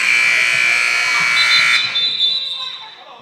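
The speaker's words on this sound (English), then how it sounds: "Letting the buzzer sound over there." A loud, harsh electronic scoreboard buzzer blares for over a second at a women's basketball game, then cuts off, leaving fading arena noise behind it.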